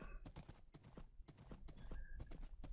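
Horse hooves clip-clop in the video game Minecraft, a quick, even run of hoof beats that stays faint and continuous throughout, with no talking.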